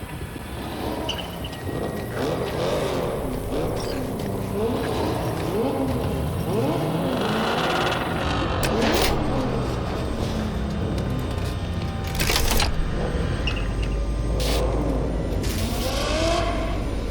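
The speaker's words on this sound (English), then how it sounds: "Start your engines, folks." In Cyberpunk 2077, car engines rev and roar through a desert race start, loud and steady, with rising and falling engine pitch and a few sharp bursts. Voices speak over the engines in places.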